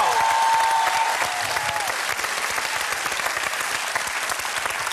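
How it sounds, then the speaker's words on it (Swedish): A studio audience at a Swedish bingo lottery TV show claps in a dense, sustained burst of applause, loud at first and easing slightly, with brief crowd voices at the start. "Och en extra applåd tycker jag till Christer Sjögren"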